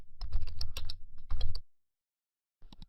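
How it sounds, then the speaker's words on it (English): Rapid keystrokes on a computer keyboard typing in a name, a dense close burst for about a second and a half, a brief pause, another short burst, then a final few taps after silence. "type your ClickBank name into it"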